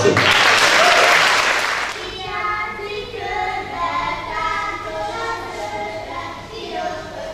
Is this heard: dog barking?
no